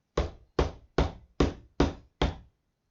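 Six firm, evenly spaced knocks on a door ring out one after another with short pauses between them. Each knock is loud and close, with no voices or other sounds.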